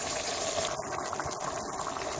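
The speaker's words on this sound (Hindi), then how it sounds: "अब इसमें थोड़ा सा मैंने पानी डाला है" Water is poured into a ridge gourd curry, a steady close gushing splash that runs continuously and fairly loudly throughout.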